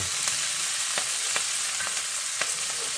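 Collard greens fry in a large pan, a constant bright sizzle with occasional sharp crackles and stirring scrapes, close and loud with no voices.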